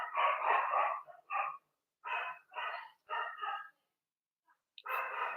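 Two dogs fight indoors, giving off bursts of barking and snarling in uneven clusters, with short pauses between outbursts, at moderate distance and without talk over them.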